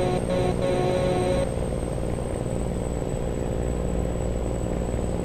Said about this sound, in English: Really love the engine sound.